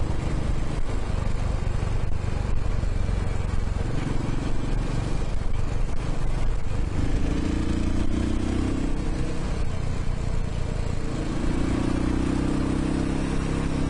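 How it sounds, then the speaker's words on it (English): A Royal Enfield Himalayan motorcycle being ridden and revved, a loud, continuous engine drone with shifting pitch, mixed with wind and road noise throughout. "this bike, when you're going through the gears and you like give it a rev, it's really torquey"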